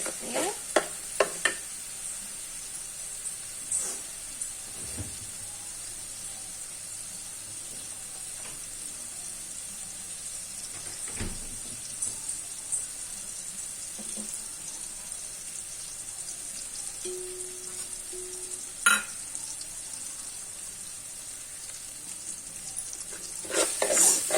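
Food frying and sizzling in a pan with chilli powder, a steady bright hiss running throughout with occasional stirring scrapes and clinks, fairly close and alone without talk.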